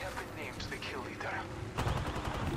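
Someone talks over faint in-game activity in Apex Legends, then a burst of rapid gunfire breaks in near the end.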